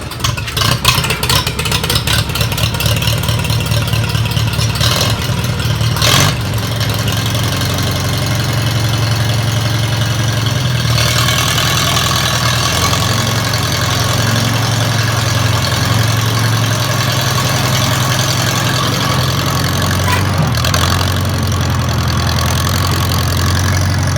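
A Farmall Cub tractor engine running steadily just after starting with the choke on, a loud, close, even chugging idle that holds for the whole stretch with slight surges, no talking.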